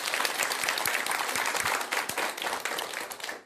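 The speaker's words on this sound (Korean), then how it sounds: "박수 한번 드리세요" A crowd applauds steadily for a few seconds at a Buddhist dharma talk, dense clapping that thins slightly at the end.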